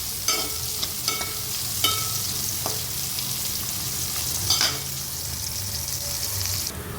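Onions frying in a pan while being stirred: a steady close sizzle with occasional sharper scrapes and clinks of the utensil, moderately loud and with no voices.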